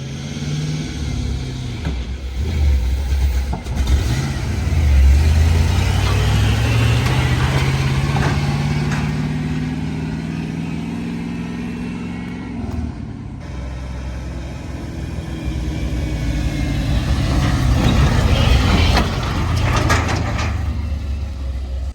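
An LS-swapped Unimog 404 drives along with a loud, close engine drone that rises and falls as it accelerates and shifts, with cabin rattles throughout.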